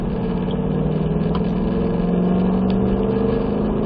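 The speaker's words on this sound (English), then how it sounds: "Now let's go ahead, start to squeeze on that throttle." A car engine on a race track pulls hard as the throttle is squeezed, a loud, steady in-car drone whose pitch climbs gradually, heard close and continuous throughout.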